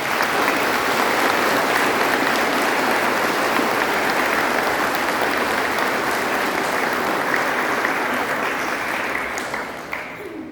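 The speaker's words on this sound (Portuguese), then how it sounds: "Uma salva de palmas para eles." Steady, dense applause from a large church congregation at an altar server investiture, sustained and loud throughout before tapering off slightly at the very end.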